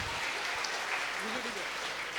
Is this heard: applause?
yes